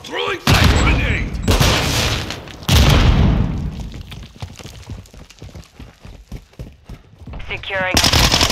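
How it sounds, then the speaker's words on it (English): Gunfire and a flash grenade in Call of Duty Modern Warfare 2 multiplayer: loud bursts of shots and booming blasts, with shorter sharp reports between them and a voice briefly audible over the action. "Grenade out! Throwing flash grenade!"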